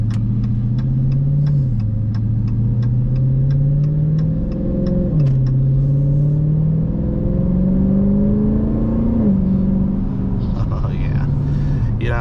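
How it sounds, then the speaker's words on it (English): A 2022 Dodge Challenger R/T Scat Pack with a Borla ATAK cat-back exhaust idles with a deep rumble and rises through several revs, loud and close, with someone talking over it. "Yeah, this exhaust is amazing."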